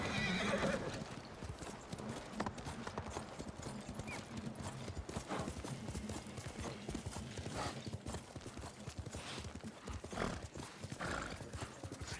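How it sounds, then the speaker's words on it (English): A horse in the video game Ghost of Tsushima gallops with steady, close clip-clop hoofbeats throughout, with a whinny near the start and faint background game sounds underneath. "Horse!"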